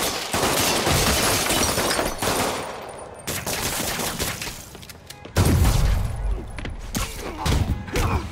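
Dense, loud bursts of automatic gunfire from thugs fill a combat scene in Marvel's Spider-Man on PS4, with rapid rattling volleys, breaks and a heavy thump near the end.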